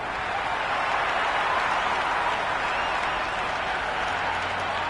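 A stadium crowd roars in the cricket video game Cricket 26, a steady, loud, dense wash of cheering and clapping with no break.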